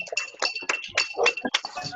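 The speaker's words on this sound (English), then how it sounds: "I can hear pots and pans going there." Pots and pans clinking somewhere in a home, quick bright metallic taps and clatters in an irregular burst, fairly close and moderately loud.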